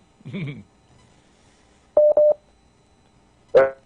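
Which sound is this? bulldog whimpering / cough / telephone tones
telephone tones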